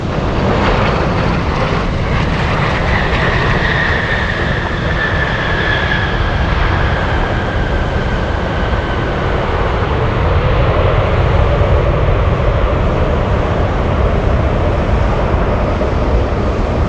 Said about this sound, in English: the big 747, Korean Air Cargo 233, flying in from Seoul, South Korea